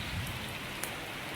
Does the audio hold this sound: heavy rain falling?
yes